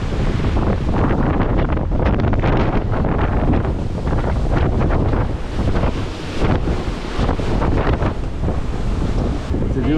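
Gale-force wind of around 40 knots roars over a sailboat racing doublehanded across the Atlantic, a loud unbroken rush buffeting the microphone with surf and spray churning underneath.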